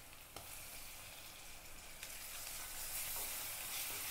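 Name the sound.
ginger garlic paste sautéing in a pan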